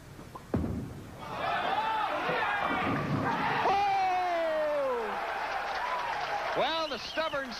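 Crowd applause at a senior professional bowling doubles tournament after a strike, a thud followed by steady clapping and cheering while a commentator talks over it.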